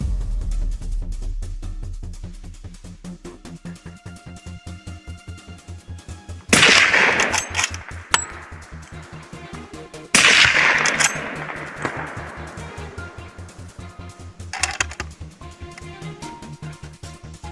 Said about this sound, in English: After the echoing gunshots, the fields have returned to their peaceful state.